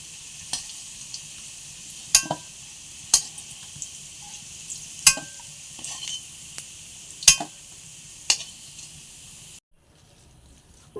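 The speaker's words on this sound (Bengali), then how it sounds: "আলুগুলো ভাজা হয়ে গেছে," Potatoes fry in a pan of oil with a faint steady sizzle, punctuated by several sharp clinks of a spatula or utensil against the pan at irregular intervals.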